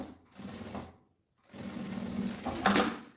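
Sewing machine stitching a women's backpack, running in two close, buzzing bursts split by a short silence, the second run longer and ending in a brighter clatter.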